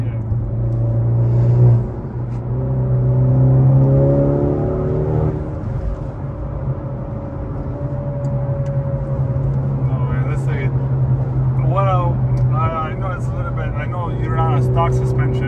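A 2019 Honda Accord 2.0T engine with a closed intake and custom tune hums as a steady low drone, with a swell in the opening seconds, while people talk over it throughout.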